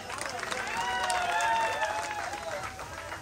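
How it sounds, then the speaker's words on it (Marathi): A crowd claps steadily throughout at a Home Minister Paithani game show held in the Hadapsar vegetable market, with voices calling and talking over the continuous applause. "जोरदार टाळ्या झाल्या पाहिजेत"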